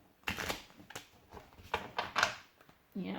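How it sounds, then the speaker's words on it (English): A deck of tarot cards is shuffled by hand in a run of soft, papery riffles and flicks, close and quiet. Faint speech sits underneath. "I'm going to shuffle one more time."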